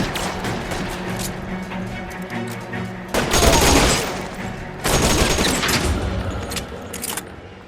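A gunfight in the video game L.A. Noire: bursts of rapid gunfire ring out in two loud, dense volleys between lighter scattered shots, with no talk.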